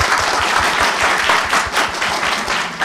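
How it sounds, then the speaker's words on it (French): Audience erupts in a thunderous round of applause, loud and close, with dense rapid clapping from a large crowd that stays full and unbroken throughout. "Et un tonnerre d'applaudissements, s'il vous plaît."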